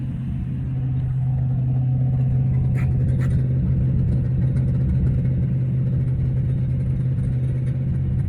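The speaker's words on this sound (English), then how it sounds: "engine runs sweet enough. 2000 RPM, just bedding in the camshaft" A Rover V8 3.9 engine, freshly overhauled, runs steadily at 2000 RPM while the camshaft beds in, producing a constant deep, even drone with a little faint clatter above it.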